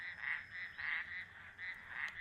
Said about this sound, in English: at the moment I'm just hearing frogs